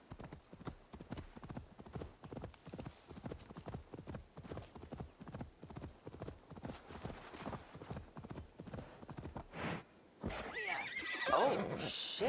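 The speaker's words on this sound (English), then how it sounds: "my horse Wrath is doing great" Hoofbeats of a horse named Wrath clip-clop rhythmically and loudly throughout a PS5 game, with a neigh near the end as the galloping breaks off into a brighter burst of game sound.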